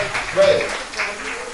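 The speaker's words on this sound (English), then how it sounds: "Get a round of applause for Mr." Brief applause from a live audience at a poetry night, rising and fading over about a second and a half beneath an announcer's voice.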